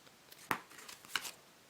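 Playing cards shuffled by hand during a close-up magic trick, giving two short, crisp riffling bursts about half a second apart over a quiet background.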